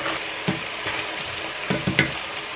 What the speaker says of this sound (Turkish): domateslere de dikkat yağın içine attığımız zaman. dönmeli. Hemen yağın içinde biraz döndürelim.